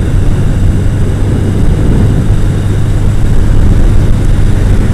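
A 1982 Yamaha XJ650 Maxim motorcycle being ridden, a loud, steady engine drone mixed with heavy wind rumble, continuous and close throughout with no talking.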